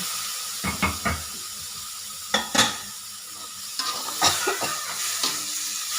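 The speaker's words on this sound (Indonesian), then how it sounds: "Kita aduk-aduk seperti ini" Spicy chicken feet (ceker mercon) are stirred in a pan, giving irregular close scrapes and clinks of a utensil against the metal over a soft sizzle, with no talking.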